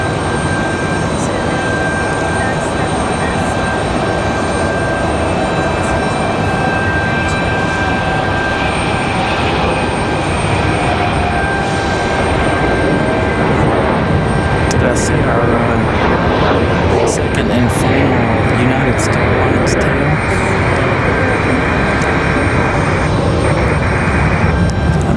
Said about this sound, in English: So here we go, our second 717 of the day, departing back to Detroit.